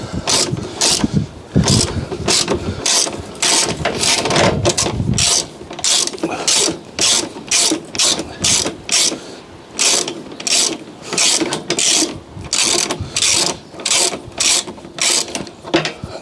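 A hand ratchet undoing 10mm bolts on a Fiat 500 clicks loudly and close in a steady back-and-forth rhythm, with regular strokes repeating for the whole stretch.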